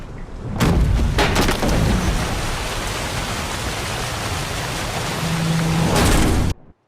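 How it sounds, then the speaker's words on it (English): A thunderstorm with heavy rain at sea in Witcher 3: a constant loud downpour hiss, with deep thunder booms near the start and again near the end before it cuts off. "Didn't bargain for no storm."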